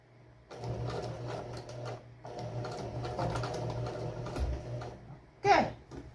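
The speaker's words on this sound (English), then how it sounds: "And I'm gonna start stitching." A domestic sewing machine stitches a French seam in steady bursts of rapid needle clatter, close and fairly loud, stopping briefly midway before running on, with a sharp knock near the end.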